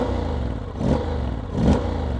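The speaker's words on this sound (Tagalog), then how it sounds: "Bomba na rin muna natin para marinig niyo yung tunog ng pipe niya." Honda X-ADV750 2025 scooter with stock exhaust, idling with a low rumble and blipped twice, two short throaty revs swelling and falling back, close by.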